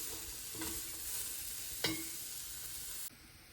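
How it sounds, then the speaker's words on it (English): Onion softening in a frying pan, with a quiet steady sizzle and two brief scraping stirs, the second a bit sharper, before the sound drops off near the end. "let it fry a little bit and become a little bit soft"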